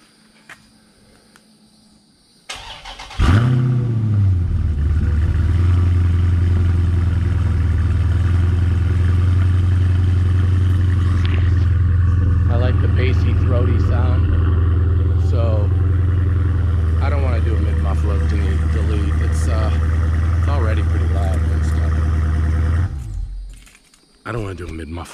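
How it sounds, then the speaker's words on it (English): A Dodge Challenger 50th Anniversary Edition with a mid-muffler delete cold-starts after a few quiet seconds, catching with a loud burst and settling into a deep, steady idle that rumbles for about twenty seconds before shutting off. "I'm gonna do another cold start here just so you hear it with the MFERs."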